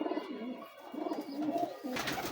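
A pigeon, a dub-type hen, gives several soft throaty coos close by in a quiet space, in short repeated phrases without talk.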